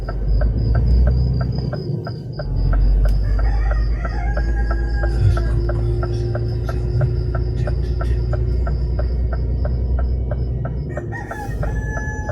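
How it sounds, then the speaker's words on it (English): Roosters crow in the distance over a constant chirping of crickets, with occasional clucking from nearby fowl. "That night, only roosters disturbed us."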